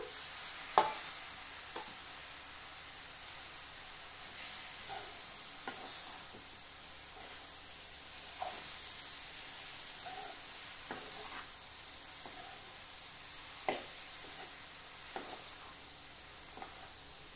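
Madapa prawns added to a ridge gourd curry hiss and sizzle steadily in a pan, with occasional soft stirring clicks and taps over the constant frying noise. The sound is moderately quiet and no one speaks.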